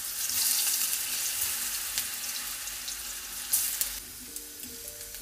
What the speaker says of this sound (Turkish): Patatesleri kendimden uzağa doğru yağın içine atıyorum.